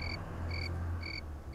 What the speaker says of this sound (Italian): ci sono i grilli.